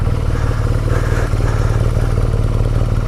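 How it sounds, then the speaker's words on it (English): A motorbike engine labours and strains on a ride from the UK to Athens, a loud, steady close-up drone with a rough, pulsing throb and no talk. "the bike was really struggling there for a bit"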